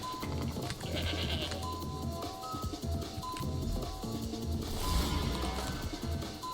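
A goat bleats in several wavering calls over a busy, cluttered background, fairly faint overall and without speech.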